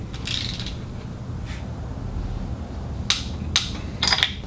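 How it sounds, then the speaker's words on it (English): A ratchet tightening six spark plugs on a Yamaha engine gives a few sharp, close metallic clicks near the end, after a soft faint ticking earlier, over a low steady hum. "now I'm just going back through, tighten them down, so I hear that click"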